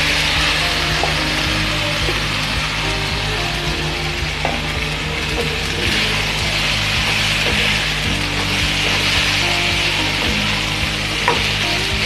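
Potatoes frying in a hot pan for masala dosa filling, a loud steady sizzle with scraping stirs and occasional clinks throughout, no talk.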